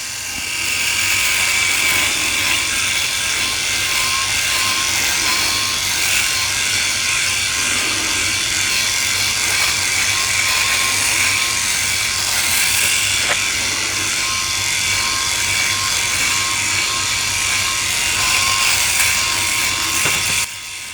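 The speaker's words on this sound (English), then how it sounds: "Okay, let's get the shave on." A Philips i9000 Prestige electric shaver runs against facial stubble, a close, steady high-pitched motor buzz with faint scratchy cutting texture, unbroken for about twenty seconds and with no speech.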